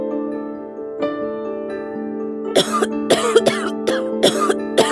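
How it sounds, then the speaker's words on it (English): A series of sharp coughs in a quick irregular run, loud and close, following a soft sustained musical tone. "Cough."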